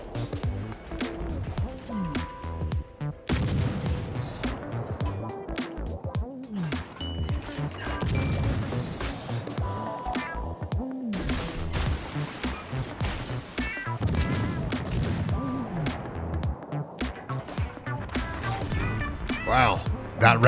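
Naval guns firing armor-piercing shells in a ship battle video game, repeated heavy booming volleys and crashes spread throughout, mixed with game music and people talking over the action.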